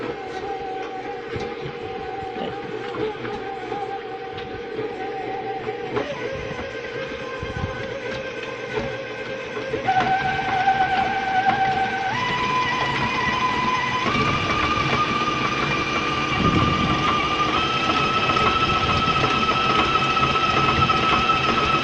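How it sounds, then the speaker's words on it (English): A KitchenAid stand mixer beats brown and white sugar. Its motor whine holds steady, then steps up in pitch several times as the speed is raised, under a constant rattling churn. No speech. "And then I will turn it on using my KitchenAid."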